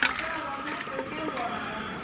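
Turmeric-and-salt boiled pork being stirred in a pan for a pork fry, giving a steady, close, wet sizzling and squishing texture throughout.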